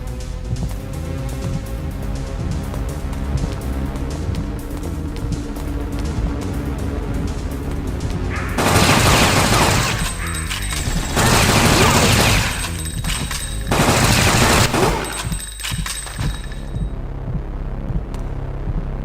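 Gunfire in the video game Fear Effect, including revolver shots, breaks out in several loud, dense bursts of rapid shots over a steady low hum.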